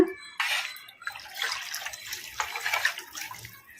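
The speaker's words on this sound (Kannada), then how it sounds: "ಅದಕ್ಕೆ ಇನ್ನು ಸ್ವಲ್ಪ ನೀರು ಹಾಕೋಣ." Water splashes and pours in a few short bursts into a pot of eggplant gojju, close and fairly quiet, with brief gaps between the pours.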